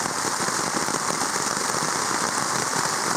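Steady rain pattering on a tent shelter at a kayak camping site: a dense, even hiss of drops close overhead, constant and fairly loud throughout with no voices.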